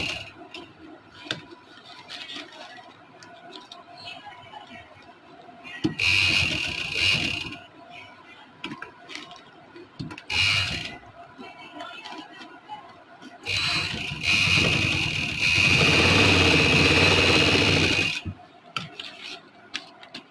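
A sewing machine stitches a summer trouser, with two loud motor bursts of steady whirring and needle clatter separated by quieter clicks and handling sounds.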